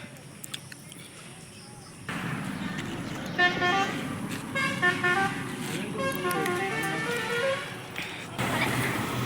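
Gas cylinder delivery truck pulling up with engine rumble and a run of loud, close horn honks in quick succession, then the horn stops and the traffic noise carries on.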